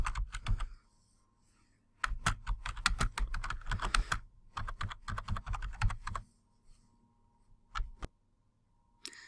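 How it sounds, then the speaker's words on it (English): Typing on a computer keyboard to enter options into an online Excel survey form: bursts of quick, close, crisp key clicks separated by short pauses, with a few isolated taps near the end and no voices. "So we can just type these in and they're automatically saved."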